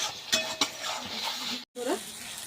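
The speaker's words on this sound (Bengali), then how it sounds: "মশলা আমার ভাজা খুব সুন্দরভাবে হয়ে গেছে, তেল ছেড়ে এসেছে।" Masala spice paste sizzles in hot oil in a pan, a steady broadband hiss broken by a couple of sharp spoon knocks and a brief gap before the frying resumes with scraping stirs.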